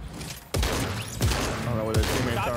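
A new combat SMG fires in an online shooter, three heavy booming bursts landing about a second apart, loud and close, while a player talks over the shots.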